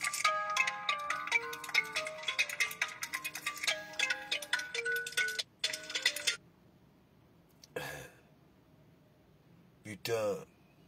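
A phone ringtone plays a bright, rapid melodic chime pattern for several seconds, then cuts off, followed by a couple of short bursts of noise, moderately loud in a quiet room.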